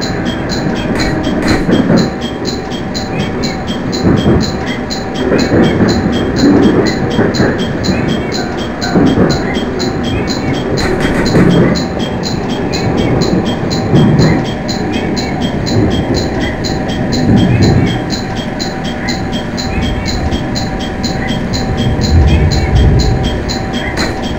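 A JR Kabe Line train running toward Hiroshima gives a steady, loud rumble with rhythmic clickety-clack from the wheels and occasional brief high squeals, heard from inside the carriage with no voices.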